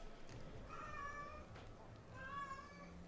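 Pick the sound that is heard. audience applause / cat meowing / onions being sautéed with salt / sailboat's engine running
cat meowing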